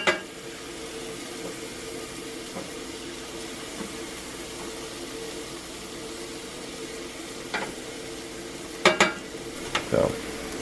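Oil sizzles steadily in a cast iron pan with a constant hiss as bacon, jalapeño and cheddar hush puppies fry, broken near the end by a few sharp clinks of a utensil.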